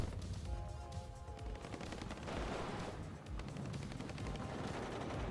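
Gunfire and tank combat in the wargame WARNO, a dense, distant-sounding clatter of rapid small-arms and machine-gun fire with rumbling explosions, fairly faint and continuous.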